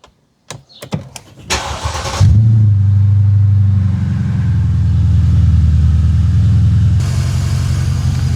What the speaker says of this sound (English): What a great sounding motor.